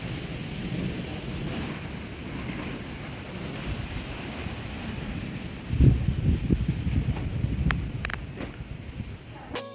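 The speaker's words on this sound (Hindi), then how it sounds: "ना आंधी का मौसम बहुत तेज़ वाला बना था।" A village thunderstorm with strong wind sets up a steady broadband roar, and a louder rumbling surge swells about halfway through before settling back to the gusting din.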